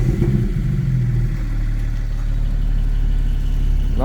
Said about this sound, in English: Now we'll start up the Spyder and listen to how it sounds